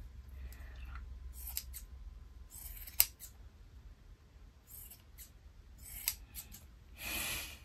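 Scissors snip in a handful of short, crisp cuts spread across the stretch, fairly quiet over a low background rumble while someone works on a crochet hat.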